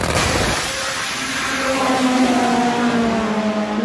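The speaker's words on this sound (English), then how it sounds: "It looks like a couple of bracket bikes." Bracket drag racing motorcycles run side by side down the strip, their engines droning loud and steady at close range, the pitch climbing as they accelerate; no one speaks.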